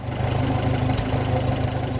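A 1953 Farmall Super M tractor engine runs steadily close by, a loud, even low chugging idle with a rhythmic knock and no other sounds.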